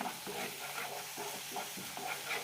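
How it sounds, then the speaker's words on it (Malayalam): Masala for a green peas curry sizzling in a pan and being stirred, with a steady frying hiss and a regular scraping rhythm of the spoon repeating about every half second, close and fairly quiet. "മൂന്നാല് മിനിറ്റ് നന്നായി വഴറ്റി കൊടുക്കാം"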